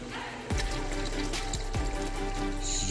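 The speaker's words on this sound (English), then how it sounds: "go ahead and add some distilled vinegar" Distilled vinegar pours steadily into water in a slow cooker used for oxtails, a continuous liquid trickle and splash beginning about half a second in, with a couple of soft knocks from the vessel.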